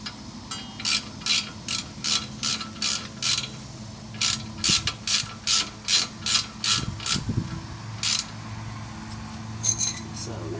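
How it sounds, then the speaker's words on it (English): Ratchet snugging down rear brake bolts on a 2017 Ford Transit T350HD, rapid bursts of close metallic clicking repeated in short regular strokes, with brief pauses and faint background clatter. "We're going to take our ratchet, we're going to get them down snug"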